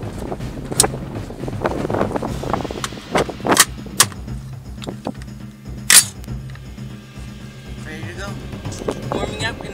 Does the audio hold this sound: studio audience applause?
no